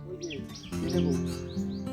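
A golden oriole, the yellow bird called bou-kotha-kao, chirps in quick, high calls on a quiet Sundarbans island village, with voices talking alongside.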